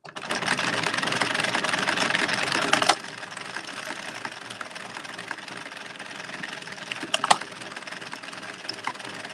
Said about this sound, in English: A sewing machine.